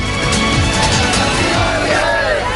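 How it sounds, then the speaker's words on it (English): Protesters carrying placards shout anti-Kejriwal slogans, a loud, dense crowd of raised voices filling the short clip with continuous chanting and yelling. "Protesters carrying placards were shouting anti-Kejriwal slogans while police were trying to control the crowd"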